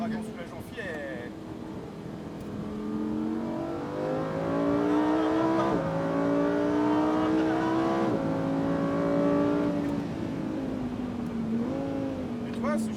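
Lamborghini Huracan Performante (640 hp) on a closing lap at the Fay de Bretagne circuit, its engine note climbing and dropping through gear changes, loud and steady from start to finish while people talk over it.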